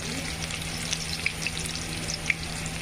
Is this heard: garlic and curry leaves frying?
yes